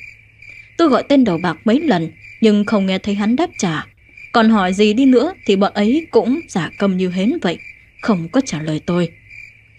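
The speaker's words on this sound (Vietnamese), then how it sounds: "chỉ có núi thì mới có tiếng dế kêu, thanh thanh như thế này chứ." Crickets chirp in a steady high trill on a mountain at night, running continuously beneath someone narrating in Vietnamese throughout.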